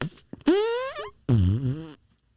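A person imitates a fart with their mouth, two drawn-out buzzing bursts in quick succession, loud and close, with no other voices.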